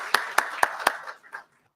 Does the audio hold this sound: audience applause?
yes